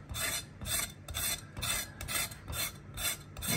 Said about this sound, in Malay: Okay, timun ladang ni kita kikis.